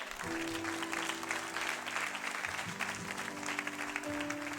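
A church congregation applauds during a Sunday service, with dense, continuous clapping at steady volume throughout and a sustained tonal hum underneath.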